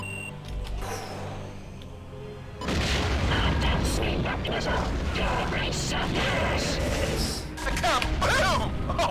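A sudden, loud explosion from the space-combat video game Wing Commander Prophecy breaks in after a quieter stretch and rolls on as a dense, sustained rumbling roar of blasts and debris.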